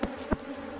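A honeybee swarm at a hive gives a brief steady buzz with two short louder bursts, close by and with no voices.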